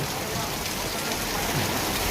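Heavy downpour of rain falling during the afternoon, a dense, even roar of drops that stays loud and unbroken throughout.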